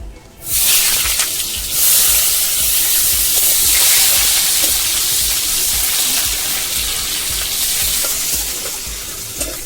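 Chopped onions hit hot oil in a pan and erupt into a loud, hissing sizzle that holds steady and eases slightly toward the end, heard up close with no speech.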